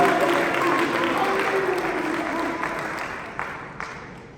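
An audience at an MLK Day 2023 presentation at Capital University claps for volunteers, a steady dense patter that slowly fades over several seconds with a few louder claps near the end and some voices mixed in.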